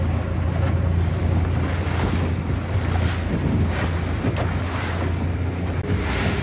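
Rough ocean waves slosh and break around a small fishing boat in wind of over 40 km/h, with constant wind buffeting the microphone and a heavy, unbroken roar and no talking.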